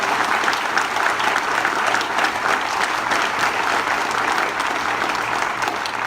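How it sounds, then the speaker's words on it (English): A crowd at a Leesburg Memorial Day service gives sustained, loud applause, many hands clapping evenly for several seconds with a faint murmur of voices beneath. "Let's give those two a round of applause for the Rainbow Division."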